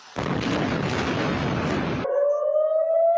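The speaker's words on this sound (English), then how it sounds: "Air raid sirens sounding across Israel," An air raid siren rises in a steady wail across Israel during a Hamas rocket barrage, emerging after two seconds of loud, roaring blast noise and sounding alone without talk.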